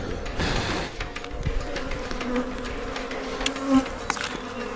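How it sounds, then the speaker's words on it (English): Thousands of bees swarm at a hive, making a dense, continuous buzz close by, with individual insects droning louder as they pass near. "This loud buzzing is coming from thousands of bees."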